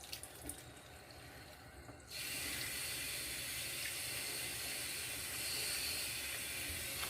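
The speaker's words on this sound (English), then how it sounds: "I gently rinse it now, holding it like this and let the water hit from the top." A shaving brush knot held under a running tap, water striking it from above: a quieter trickle, then a steady loud rush of flowing water that continues without a break, close by and with no talking.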